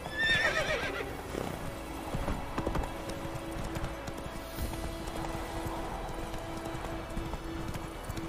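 A horse in The Witcher 3: Wild Hunt whinnies loudly at the start, then its hooves clop in a steady galloping rhythm over game ambience for several seconds, close and prominent.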